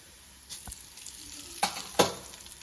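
Mustard seeds, cumin and asafoetida frying in hot oil for a Telugu tamarind pulusu tempering: a low, steady sizzle broken by a few sharp spatters and pops, close up, with no talking.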